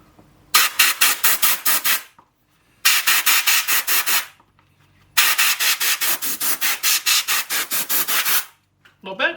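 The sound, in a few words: air compressor blowing dust out of an air filter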